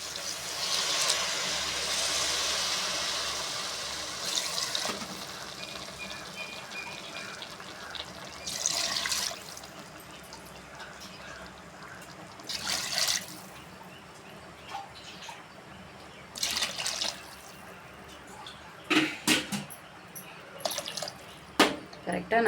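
Water poured into a pot of rice being cooked for thalcha rice, a steady close splash and trickle that starts loud, then breaks into shorter pours and drips, with no voices.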